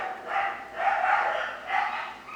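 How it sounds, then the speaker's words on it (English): Dogs bark outdoors in three drawn-out bursts, fairly close and loud, with no talking in between. "And I'm sorry for the dogs outside."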